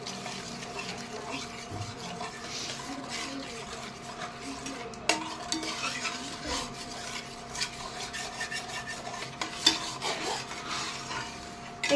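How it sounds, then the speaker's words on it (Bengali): Chana masala with curd is stirred and fried in a kadai over low flame, giving a steady soft scraping and rubbing with faint sizzle, close and quiet, without talk. "আবারও ভালো করে কষিয়ে নেব।"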